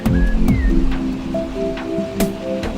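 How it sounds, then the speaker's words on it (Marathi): Heavy May downpour over a village, a steady broadband hiss of rain filling the scene throughout, with a few faint tonal sounds drifting over it. "आज तर खूप जोरदार पाऊस पडतो"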